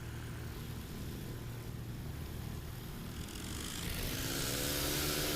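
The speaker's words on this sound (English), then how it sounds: "in the Super Rebel, getting it airborne" A Super Rebel light propeller aircraft takes off at a STOL competition, its engine a steady drone that swells louder toward the end as it climbs out.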